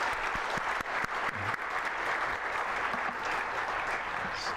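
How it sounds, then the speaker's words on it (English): An evening commencement ceremony audience applauds the incoming batch of students, a steady wash of many hands clapping at moderate distance, with a few sharper individual claps near the start. "very loud applause for the incoming batch."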